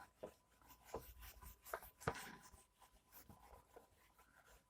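Quiet, close scratchy strokes of writing on a board during a chemistry lesson, short irregular bursts of marker or chalk scraping with small taps between them.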